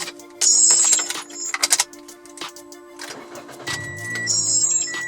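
A car engine starting inside a hot parked car: electronic chimes and beeps, a brief cranking, then the engine catching and settling into a low steady idle, close and clear.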